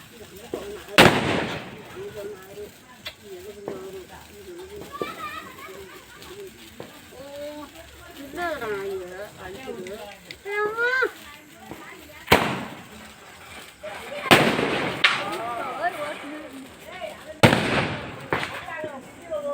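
Diwali firecrackers explode at a home celebration, with about four sharp, loud bangs spread through the clip and people chatting and calling out between the blasts.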